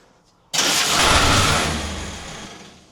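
A 1950 Willys M38 jeep, restarted after 15 years with starting fluid and choke, catches abruptly after a short quiet lead-in. It roars loud and close, then settles and slowly fades toward a rough idle.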